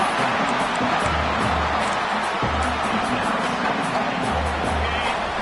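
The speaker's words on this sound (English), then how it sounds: "And the crowd coming to life here, trying to help this defense down in the red zone." Stadium crowd at a college football game as the defense holds near the goal line: a broad, distant roar of many voices sustained throughout, with a low rumble pulsing beneath it.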